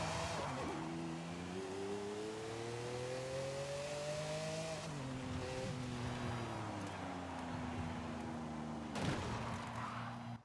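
A car drifts in Forza Horizon 5, its engine droning steadily with a shifting pitch and tires squealing as it slides, loud and continuous throughout with a brief gear-change break midway.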